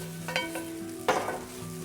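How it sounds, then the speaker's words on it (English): Red bell peppers sauté in a pan for a noodle dish, giving a soft continuous sizzle with a few scraping stirs of a utensil, close and fairly quiet, with no talking. "Add in the red bell peppers. Saute for 2 to 3 minutes."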